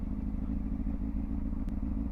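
A motorbike engine idles with a steady low throb while the rider walks the bike with feet up and no revs, close and continuous, alone.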